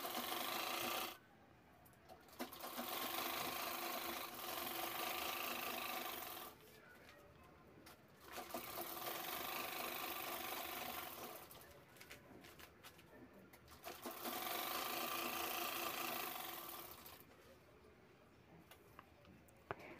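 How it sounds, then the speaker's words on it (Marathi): A sewing machine stitches the sides of a used rice bag, running in several long whirring bursts of a few seconds each, separated by short quiet pauses. "दोन्ही बाजूही शिवून घ्यायच्यात"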